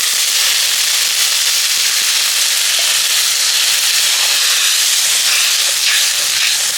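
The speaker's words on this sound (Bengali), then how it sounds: "এবার আমি জল দিয়ে দেব।" Water poured into a pan of capsicum cooked down with masala sets off a loud, continuous sizzling hiss of steam that holds steady throughout, close by, with no talking.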